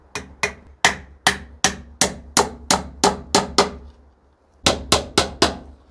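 Hammer strikes driving nails to fix a concrete block in place, about a dozen sharp close blows in a steady rhythm, a short pause, then four more, with no talking.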